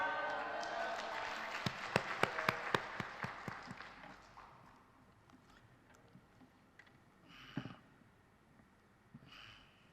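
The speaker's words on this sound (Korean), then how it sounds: "목사님이 나오실 때 할렐루야로 화답하시고 박수로 환영하여 주시기 바랍니다" A church congregation at a dawn service in a large main sanctuary welcomes the pastor with a burst of dense clapping that thins out and fades after a few seconds, leaving a quiet room with a few faint movements.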